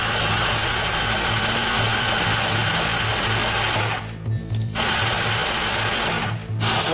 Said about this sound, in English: This means turning the engine over without spark, so all the internal components are lubricated properly.